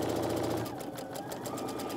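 Sewing machine stitching quilting fabric with blue thread, a fast steady mechanical chatter of the needle running continuously at close range.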